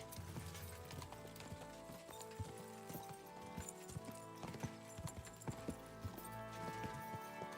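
Horse hooves clip-clop in a steady, quick rhythm in the game Kingdom Come: Deliverance 2, over a busy backdrop of game music and ambient effects.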